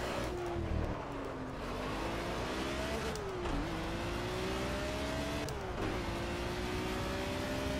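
A race car engine in the Project Cars video game on Xbox One wails upward through the revs, pitch climbing and dropping back with each gear shift, three or four shifts in a row, loud and continuous with no talking.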